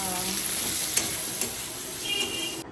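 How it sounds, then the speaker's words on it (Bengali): Pumpkin fries in a pan with a continuous close sizzle, and a few light stirring clicks come through during the short stretch. "কুমড়ো ভাজা"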